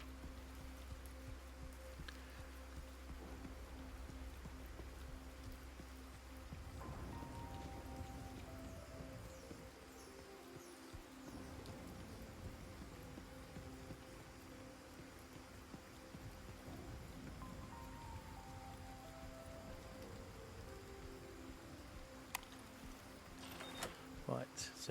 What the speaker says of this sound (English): It's actually the first time I've seen it rain like this.